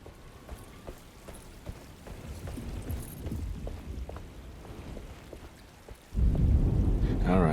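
A thunderstorm in the video game Alone in the Dark: steady rain hisses throughout, then a deep, loud rumble of thunder rolls in near the end.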